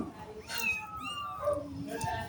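Two cats meow close by, several short, rising mews following one another in quick succession, with a soft voice murmuring underneath.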